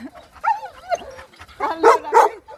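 Rescued dogs at Padula, including abandoned mothers with their puppies, give short barks, yips and whimpers, close and fairly loud, with a few overlapping calls that grow busier toward the end.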